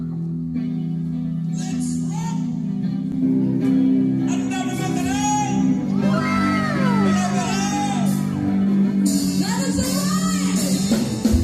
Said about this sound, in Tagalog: Grabe yung mga hiyawan ng mga tao.